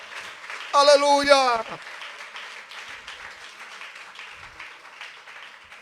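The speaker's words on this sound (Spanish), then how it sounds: "Ese aplauso al Rey de Reyes y al Señor de los señores." A congregation at a church service applauds, producing a broad, steady wash of clapping that carries on for several seconds after a single voice briefly calls out.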